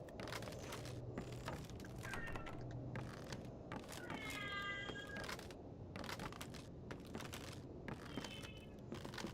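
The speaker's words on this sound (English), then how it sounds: "that is my oldest cat meowing away. He's a Siamese" A Siamese cat meows repeatedly in a series of drawn-out, wavering calls, fairly close and moderately loud, with a steady low background hum and scattered clicks.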